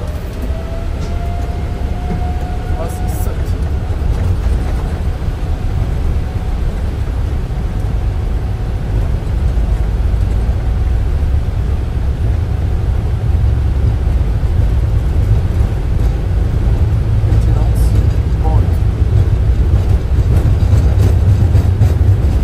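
Steady, loud roar of an aircraft accelerating for takeoff, heard from on board by a loadmaster; a dense continuous engine rumble holds at full strength for the whole stretch, with no talking.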